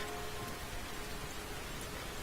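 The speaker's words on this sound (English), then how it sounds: "all I heard was the sound of raindrops on umbrellas" Steady rain patters on umbrellas at a graveside gathering in an otome visual novel game, a dense even hiss with no break and no voices.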